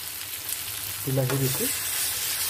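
A tomato and onion masala for an Assamese-style egg curry fries in hot oil with a steady sizzle. A brief tonal squeak rises midway.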